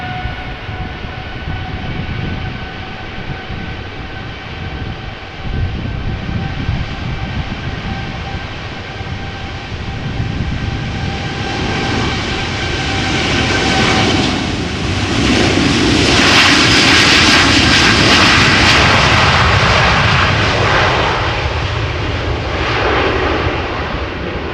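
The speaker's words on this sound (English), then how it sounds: "Boeing 7879 Dreamliner, the medium-sized variant." A United Boeing 787-9 Dreamliner departs Amsterdam Schiphol Airport, its loud engine roar with steady whining tones building as it passes close and peaking toward the latter half before easing slightly.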